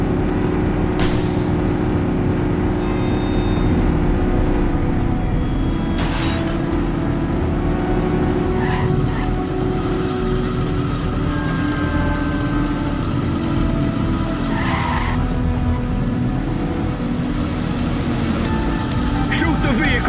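Police car chase in the video game The Precinct, with engine drone, hissing tire noise and repeated bursts of skidding and impact, plus shouted voices over the action.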